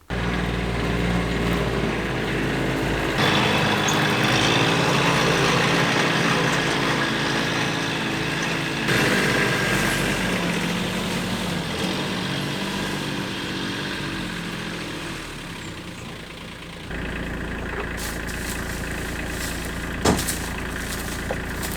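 A vehicle's engine drones steadily and loudly as it climbs a cleared forest trail after a wildfire, with shifts in pitch and load partway through and no voices.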